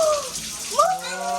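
Water runs loudly from a faucet into a KRAUS 33-inch stainless steel sink, a steady close gush with a rising tone as the basin fills and the flow shifts.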